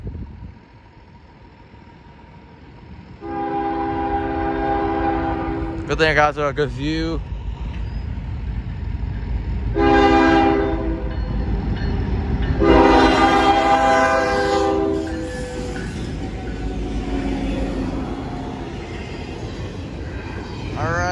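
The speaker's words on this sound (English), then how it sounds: "we got Norfolk Southern eastbound train down the line" A Norfolk Southern eastbound freight train rumbles past steadily while its horn sounds several long blasts, and a person speaks briefly over the noise.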